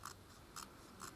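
Scissors trimming the edge of a bead embroidery piece, three quiet crisp snips spaced about half a second apart, close and alone.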